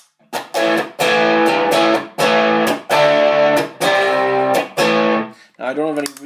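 Overdriven electric guitar through an EHX Soul Food overdrive pedal at moderate gain, dry with no reverb: a loud run of strummed chords in separate bursts with short gaps, ending in a brief bending phrase.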